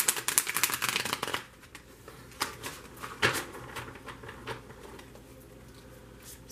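A tarot card deck is riffled and shuffled close by, with a dense burst of crisp flapping at the start followed by softer, scattered card slaps and taps, with no voices.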